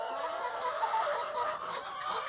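Chickens on a Cebu poultry farm cluck softly and continuously, several birds close by in a steady low murmur with occasional sharper calls and no talk over them.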